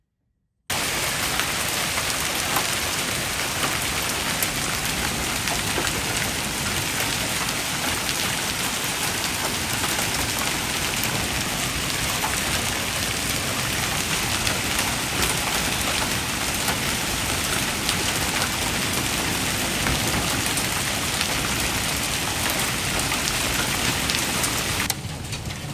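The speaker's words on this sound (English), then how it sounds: "Please stop hailing." Hail pelts down during a storm in Chickasha, a dense, unbroken clatter and hiss of stones striking surfaces close around, loud and steady for the whole stretch with no voices.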